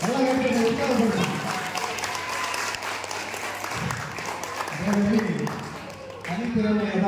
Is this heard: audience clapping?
yes